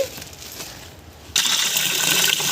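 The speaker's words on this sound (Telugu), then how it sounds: "ఇప్పుడు వాటర్తో బాగా శుభ్రంగా రెండు మూడు సార్లు వాష్ చేసుకుందాము" Water poured over flattened rice (poha) for washing: a quiet, close stretch suddenly breaks into a loud, steady gushing splash that continues to the end.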